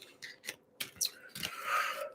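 A deck of oracle cards is shuffled by hand, giving a quick run of crisp, close riffling snaps and papery swishes, faint and uneven in rhythm.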